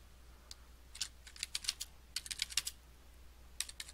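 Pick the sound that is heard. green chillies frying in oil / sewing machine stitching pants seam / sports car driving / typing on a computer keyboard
typing on a computer keyboard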